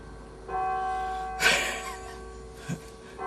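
A church bell in Bendigo chimes nearby, a single sustained ringing strike that hums and decays, with faint breathing and small sounds around it.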